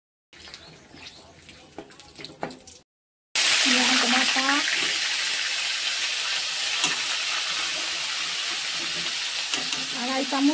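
Whole cinnamon, cardamom pods, cloves and black peppercorns dropped into hot oil for Hyderabadi chicken, bursting into a loud, steady sizzle with crackles after a brief quieter stretch of kitchen noise and a pause.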